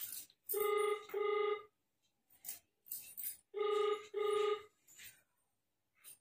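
A phone's ringback tone plays through a loudspeaker call, two paired ring bursts separated by a pause, clear and fairly close, with faint clicks and noises between rings.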